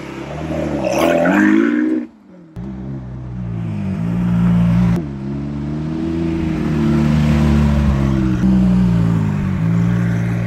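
A Lamborghini Aventador's engine revs hard and loud, pitch climbing and falling through several throttle bursts, with a brief dip to near quiet before roaring again.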